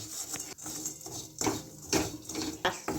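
A spoon slowly stirs reddening sweetened milk in a pan for Bengali mishti doi, making repeated close scraping and clinking strokes against the metal in an irregular rhythm, with no talking.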